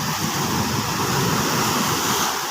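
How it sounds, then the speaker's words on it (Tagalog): Strong waves surge and churn along a rainy shore, making a dense, continuous roar with wind noise and no clear breaks, loud and close throughout. "Ayan, umuulan pa din dito. Lakas ang alon."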